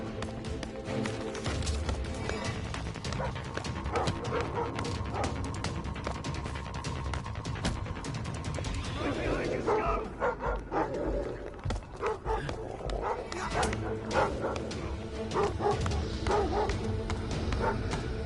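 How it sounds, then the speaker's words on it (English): Dogs barking in the Thief video game, repeated barks over game music and ambience, with a player talking at times. "Them fucking dogs give me away then."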